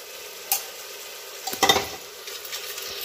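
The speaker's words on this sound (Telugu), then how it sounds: "ఇప్పుడు నానబెట్టుకున్న బియ్యాన్ని యాడ్ చేసుకోవాలి" Soaked rice is tipped into a pot of Andhra egg biryani and stirred, giving one short burst of scraping, rattling clatter midway through an otherwise quiet, low hiss, with no voices.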